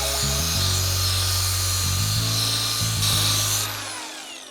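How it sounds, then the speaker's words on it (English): A tubing sander attachment mounted on an angle grinder runs against a non-round tube, a loud steady motor whine with a grinding, rubbing abrasive rasp that wavers in pitch and eases off near the end. "This is a tubing sander, tubing cleaner."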